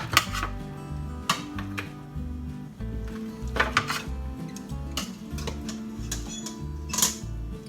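Tender, fall-apart pork ribs lifted out of an Instant Pot onto a pan, with a steady run of close metallic clinks and taps from utensils and cookware, some sharper knocks standing out, under faint background music.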